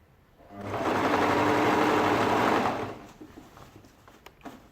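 A sewing machine stitches a ladies shirt dress in one close burst of rapid mechanical whirring lasting about two seconds, then stops and leaves quiet handling sounds.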